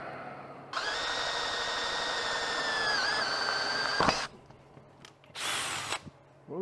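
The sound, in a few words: drill drilling through a Dana 44 hub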